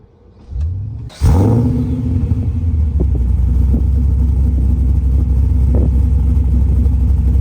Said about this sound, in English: But what most reminds me of it is the noise.